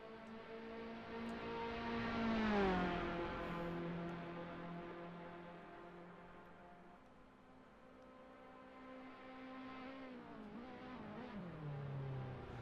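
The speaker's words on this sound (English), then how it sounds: "Down the back straight though, flat out all the way. Should have this thing bouncing off the limiter by the time he gets to the end of the straight." A Tatuus single-seater race car at Abu Dhabi holds a flat-out, buzzing engine note that climbs and holds high revs, then drops sharply as it downshifts, heard from a steady onboard distance at moderate volume.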